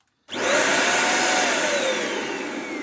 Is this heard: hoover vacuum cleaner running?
yes